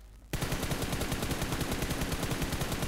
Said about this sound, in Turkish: Birden adam mı sıktı?